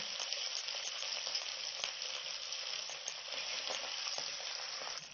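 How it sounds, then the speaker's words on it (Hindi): Pieces of rohu fish, about a kilo, fry in half a cup of hot oil, giving a soft, even, continuous hiss and crackle that stays faint and steady throughout, with no voices. "जी, तो ये फिश फ्राई करूंगी"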